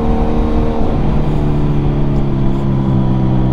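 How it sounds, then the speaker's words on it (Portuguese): A Kawasaki Ninja 1000 motorcycle exhaust roars steadily at close range, holding a deep, rough drone with a slight rise in pitch as it revs. "mas deu pra ouvir o escape."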